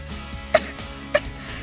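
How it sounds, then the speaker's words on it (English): A girl coughs in an anime scene, two short sharp coughs about half a second apart over a low musical background. "She starts to cough."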